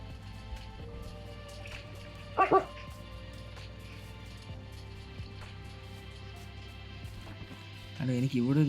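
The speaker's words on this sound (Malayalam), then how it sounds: "അവൻ ബാക്കിൽ നിന്ന് കാര്യമായിട്ട് കുരയ്ക്കുന്നുണ്ട്." A dog barks in the Minecraft video game, two short yelping bursts, one early and one at the very end, over steady game ambience.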